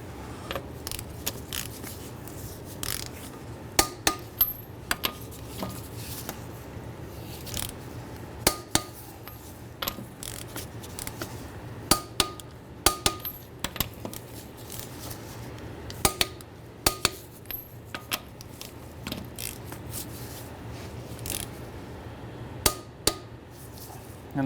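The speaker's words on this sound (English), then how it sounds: "we're going to torque our lug nuts down to 80 foot-pounds." A torque wrench tightens the lug nuts on a 2003-2011 Honda Element in a crisscross pattern, giving sharp metallic clicks in scattered bursts over a low, steady background hum.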